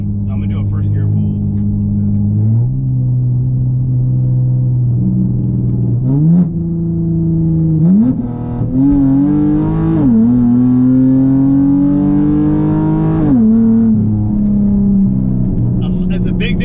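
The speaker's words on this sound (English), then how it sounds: "So I'm gonna do a first gear pull." A tuned V6 Dodge Charger on a newly built road makes a first gear pull, the engine droning, then its pitch climbing as revs rise and dropping again, loud and close, with a voice speaking over it.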